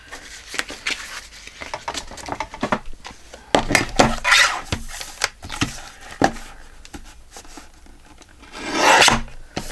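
Paper being trimmed for journal ephemera at a craft desk, heard as a run of close, uneven rasping and scraping cuts with scattered sharp snips and a louder rubbing burst near the end, with no talking.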